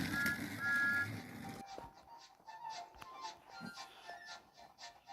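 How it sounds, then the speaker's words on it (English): A toy-style locomotive's train whistle gives short, fairly faint pitched toots in the first second and a half over background music, followed by quieter tones. "and he whistled"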